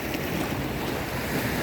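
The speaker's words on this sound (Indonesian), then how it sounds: "kita berada di pesisir pantai" Surf breaking steadily along the beach at Muarareja, Tegal, near a breakwater of piled rocks where fishing boats land their catch, a continuous broadband wash of waves with some wind rumble, loud and constant.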